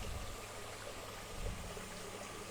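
Water flows steadily into a tilapia fish-farming pond with a running-water system, a faint, continuous rushing and trickling with no voices.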